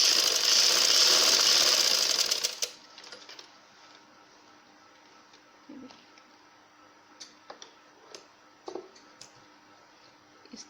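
Sewing machine stitching a dhoti shalwar, a loud hissing whir for the first couple of seconds that stops, followed by quiet sparse mechanical ticks and clicks.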